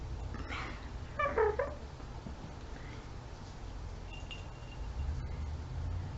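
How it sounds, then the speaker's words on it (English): A few faint cat meows over a low background hum, with quiet gaps in between. "meow, meow, meow, meow,"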